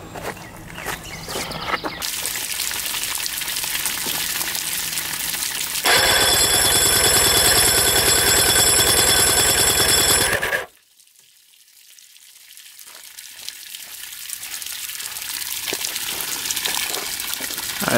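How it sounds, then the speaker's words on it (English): Water running aboard an abandoned fishing boat, a loud continuous rushing gush that grows stronger and then cuts off abruptly, followed by a quieter steady hiss. "water running."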